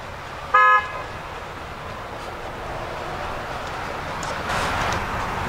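Steady traffic hiss from a nearby highway beside a cemetery, with a single short car horn toot near the start and the road noise swelling slightly toward the end.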